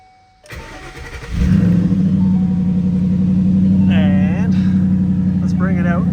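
A 2012 Ford Mustang Boss 302 with a 5.0L V8 cranks briefly and catches, settling into a loud, steady, rumbling idle up close, with short voices over it.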